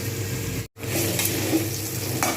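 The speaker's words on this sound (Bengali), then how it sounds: "এটা একটু ঢাকনা দিয়ে ভাজবো 2-3 মিনিটের মতো লালচে করে" Potatoes fry in a covered pan for a potato and soybean curry, with a continuous close sizzle broken by a brief silent gap near the start before the hiss returns steadily.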